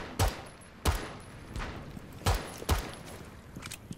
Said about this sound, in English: I've been shooting at like a like a light pole for the past five minutes